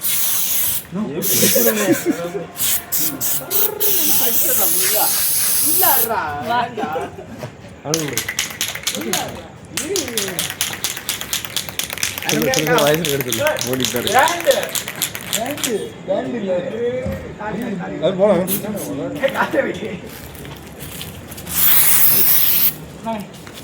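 Fire-cutting spray at a birthday celebration hisses in sharp, repeated bursts under loud, lively chatter from people nearby.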